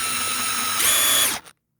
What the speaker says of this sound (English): you're gonna want to drill a straight hole down